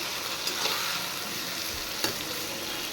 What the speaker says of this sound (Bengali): এবার পেঁয়াজটা ভালো করে ফ্রাই করে নেব।